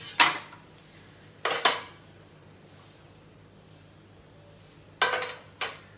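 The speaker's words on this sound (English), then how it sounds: "put a tawa here" A tawa griddle pan is set onto a gas stove in a home kitchen. Four sharp metallic clanks land in two quick pairs, separated by quiet.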